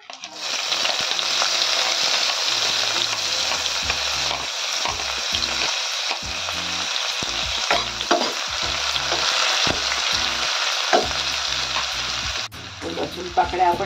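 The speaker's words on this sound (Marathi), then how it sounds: "आपले तेल छान तापले. त्यात टाकायचे आपल्याला मोहरी, थोडा कढीपत्ता, थोडे टाकायचे जिरे, टाकायचा आपल्याला कांदा" Mustard seeds, curry leaves, cumin and onion hit hot oil in a pan for shengole, a loud sustained sizzle with crackling spurts and stirring scrapes, close up and without speech.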